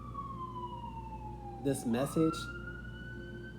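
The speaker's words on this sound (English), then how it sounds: "I'm uplifting you guys with this horse being in the air and these sirens in the background" Emergency vehicle sirens wail in the background as one long, steady, slowly falling tone, with a short stretch of talk passing over it in the middle.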